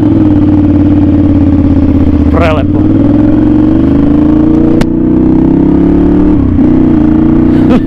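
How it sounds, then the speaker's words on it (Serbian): A Ducati Monster 696 motorcycle engine drones loud and close while riding, its pitch climbing gradually under load with brief dips at shifts, while a rider speaks briefly over it. "ja ne mogu da vam opišu koliko ovo glasa motor"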